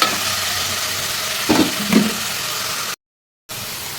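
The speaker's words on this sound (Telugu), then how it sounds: "తోటకూర వేసుకున్న తర్వాత ఆయిల్లో తోటకూరని ఒక రెండు నిమిషాల పాటు ఈ విధంగా ఫ్రై చేసుకోవాలండి" Amaranth leaves frying in oil in a pan, a steady low sizzle with two brief scraping stir strokes, close, and a short silent break near the end.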